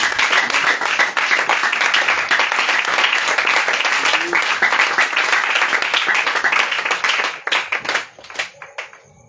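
A church congregation at a revival service in Côte d'Ivoire claps loudly in dense, rhythmic applause with voices mixed in. The clapping fades and breaks up into scattered claps in the last second or two.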